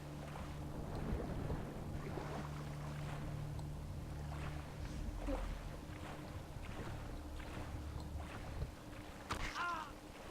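A motorboat engine in the Far Cry 3 video game, a steady low drone with water splashing and wind noise around it, while faint voice-like bursts come and go.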